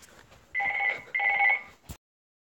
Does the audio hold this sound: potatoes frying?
no